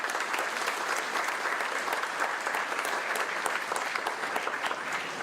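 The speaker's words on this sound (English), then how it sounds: "one more round of applause for the new citizens" A steady wash of audience applause for new citizens at a naturalization ceremony, even and continuous, moderately distant and on its own.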